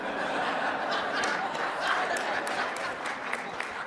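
Audience at an IT leadership storytelling talk applauding and laughing together, a dense, steady wash of clapping and chuckles that fills the room evenly without letting up.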